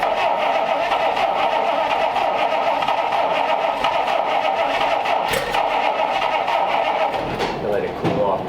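A 1932 Schroll Coupe, running for the first time since 1960, cranks over with a steady, loud churning drone that carries on close throughout and wavers near the end.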